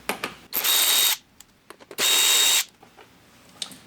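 A power tool spins out the two factory 5mm Allen screws from the lower fender of a 2023+ Speed UTV El Jefe, with two sustained close bursts of high whirring, each about half a second to a second, separated by small clicks and handling noise.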